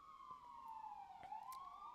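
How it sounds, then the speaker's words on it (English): A police siren wails in the city, faint and distant, its tone sliding slowly down and then back up over low background hum. "here we have another siren"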